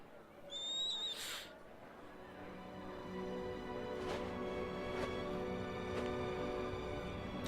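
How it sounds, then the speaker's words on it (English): In the Harry Potter and the Philosopher's Stone PS2 video game, an owl gives a brief pair of whistling hoots and then lands with soft thuds on a table, set against a quiet steady background hum. "Just the owl hits the table."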